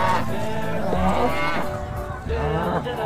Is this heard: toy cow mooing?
yes